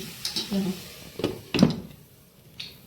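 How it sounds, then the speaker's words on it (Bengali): A lid is set down over an aloo kulcha cooking on a pan, giving a brief metallic clink and clatter amid soft kitchen handling noises, fairly close, with a faint voice in the background. "দিয়ে এরকম ঢাকনা দিয়ে দিতে হবে"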